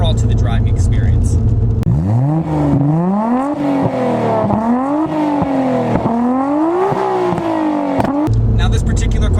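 The inline-six of a 1995 Nissan Skyline GT-R revs hard and close up, climbing through a rising howl, shifting, and pulling again in repeated surges, with speech heard before and after.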